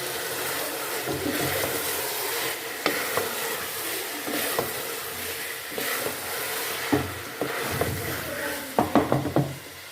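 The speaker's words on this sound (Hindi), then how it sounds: "दो से 3 मिनट इसको हम अच्छे से फ्राई कर लेंगे" Karela chicken frying in a pan: a continuous close sizzle with a spatula stirring and scraping, plus sharp knocks against the pan that cluster more densely toward the end.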